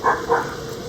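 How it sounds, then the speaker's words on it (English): Two quick dog barks close together near the start, then quieter background noise. "That's the neighbor's dog."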